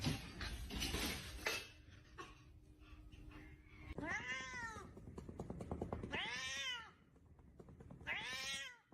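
A cat gives three long, drawn-out meows that rise and fall like wails, each standing out clearly over a busy background of clatter and room noise.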